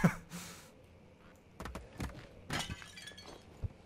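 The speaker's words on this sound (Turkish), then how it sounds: "Fırlattım şeyi kavanozu fırlattım kırılmadı düştüğünde kırıldı." In Amnesia: The Dark Descent, a thrown glass jar breaks with several sharp crunching impacts and a scattering of shards, moderately loud amid quiet game ambience, with scattered thuds around it.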